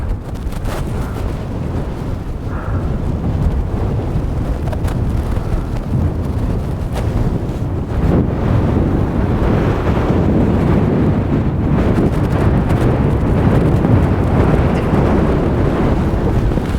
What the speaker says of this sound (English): the wind is doing its best to ruin our day